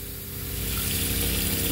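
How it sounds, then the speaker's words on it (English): A water pressure pump in a 1995 Jayco 294FL RV hums steadily, a continuous low motor drone with a faint hiss above it, close and unbroken, with no talk. "the pump kicks on, you can hear it. That's the pump for the water pressure"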